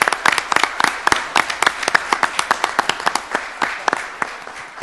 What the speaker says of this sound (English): So let's give this young man a round of applause.